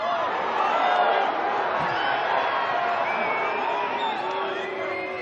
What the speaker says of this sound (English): the German crowd booing because they felt there was a foot in there